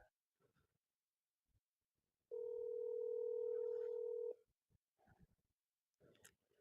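A phone call rings out as a single steady electronic tone lasting about two seconds, fairly clear, with faint voices and small noises before and after it.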